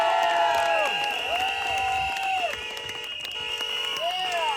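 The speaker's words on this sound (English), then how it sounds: "Let's give them all a great round of applause." Crowd at an outdoor Staten Island rally applauds and cheers steadily, with shouts and whistle-like tones riding over the clapping, loud and sustained throughout.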